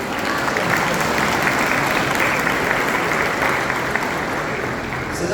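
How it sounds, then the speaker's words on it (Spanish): A church congregation applauds throughout, a dense steady roar of many hands that holds loud for the whole stretch and eases only slightly at the end. "Dense un aplauso a usted mismo."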